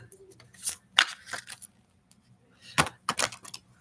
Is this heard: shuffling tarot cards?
yes